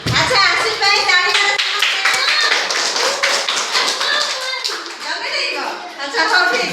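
Young children clap together in a lively burst of rapid, uneven hand claps for a classmate named Aashi, close and loud, with an adult and kids speaking over them.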